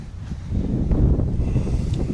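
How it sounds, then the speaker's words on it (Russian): Strong wind roars and gusts against the microphone on a riverbank, a low rumbling buffet that swells after the first half-second and stays loud. "Ветрище, ребята."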